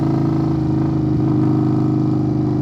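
A 2021 Indian Scout motorcycle fitted with a Hacker Mayhem exhaust and Arlen S intake, custom tuned, idles and revs loudly up close, with a steady deep throbbing rumble and a brief blip midway.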